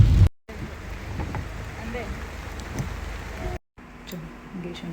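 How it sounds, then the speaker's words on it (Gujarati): Steady rain keeps falling, a continuous broadband hiss that runs for several seconds, broken by two brief silent cuts. "વરસાદ તો છે ને કાલનો અહીંયા ચાલુ જ છે"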